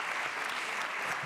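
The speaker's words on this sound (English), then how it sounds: "So a round of applause, let's give him a hand." An audience at the Barça general assembly breaks into sustained applause, a soft but dense wash of clapping heard evenly throughout with no voices on top.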